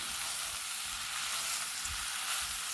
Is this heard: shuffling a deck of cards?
no